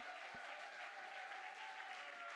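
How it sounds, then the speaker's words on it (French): Congregation applause during a church sermon, heard as a faint, steady patter of many hands clapping at a distance. It runs evenly throughout over a low constant hum. "Donnons-lui une acclamation, frère."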